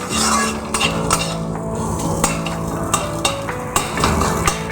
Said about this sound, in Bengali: একদম টুকরো টুকরো করে নেব পেঁয়াজ বাদাম কাঁচা লঙ্কাটাও ডিমের সঙ্গে মিশিয়ে নিলাম